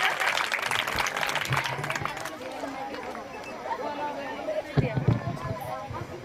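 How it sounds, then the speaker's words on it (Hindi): Audience applause welcoming a young schoolgirl singer at a Kargil War tribute cultural evening, a dense burst of clapping at the start that thins into crowd chatter and scattered claps, with voices throughout. "जोरदार ताली से स्वागत करेंगे"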